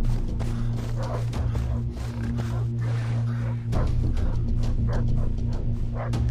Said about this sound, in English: These dogs better not be after me.